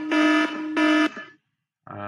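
An alarm sound effect: two loud, sustained electronic buzzer tones of about a third of a second each, a brief silence, then a third tone starting.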